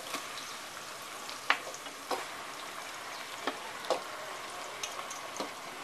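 Mutton pieces frying with onions and whole spices in a pan, a soft, steady sizzle broken by scattered sharp crackles and pops, close and fairly quiet, with no voices.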